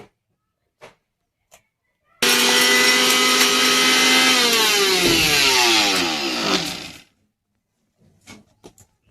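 A mixer grinder blends fenugreek seeds, starting abruptly into a loud high-pitched whirring roar whose pitch dips as the seeds break down, then cuts off after about five seconds, with a few faint clicks before and after.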